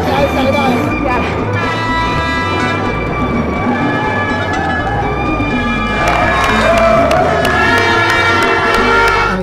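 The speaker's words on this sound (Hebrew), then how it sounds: "ואנחנו באיחור, אז כפיים לכולם." A crowd cheering and shouting for a team at a sporting event, a dense, loud wash of voices that swells again toward the end, with talk mixed in.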